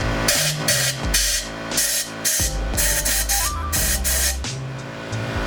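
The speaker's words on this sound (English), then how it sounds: "applying only a small amount of brake cleaner" Brake cleaner is sprayed in short, repeated hissing bursts onto the intake valves of a Mazdaspeed 3 engine, loud and close in a garage.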